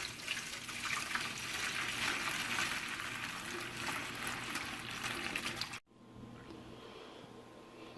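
Hot beef bone broth, simmered in a crockpot, is strained slowly into a pan. It makes a steady, close pouring and splashing rush for about six seconds, then cuts off sharply, leaving a quiet kitchen.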